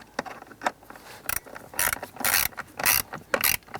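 Ratcheting clicks in short bursts as screws are snugged into a plastic HVAC blower motor housing on a 2005-2007 Ford Five Hundred, several close, distinct runs of rapid clicking separated by brief pauses.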